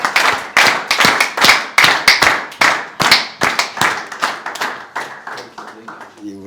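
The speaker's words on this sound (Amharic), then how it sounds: "ቅልጥ ያለ ጭብጨባ ካረጋችሁለት ይመጣል።" A lively round of applause from an indoor audience welcoming a veteran teacher and coach to the stage for a talk; sharp, distinct handclaps come in uneven bursts and gradually thin out toward the end.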